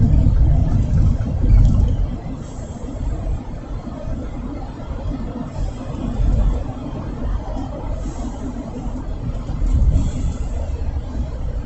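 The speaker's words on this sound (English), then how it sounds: "What's with the traffic jam?" Steady low rumble of idling and slowly creeping car engines in stalled traffic on a bridge, continuous and fairly loud with periodic swells as nearby vehicles move.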